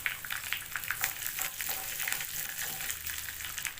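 Small shallots sizzling in hot oil with mustard seeds, urad dal, dried red chili and curry leaves for groundnut chutney, a close crackling fry with stirring scrapes, no speech.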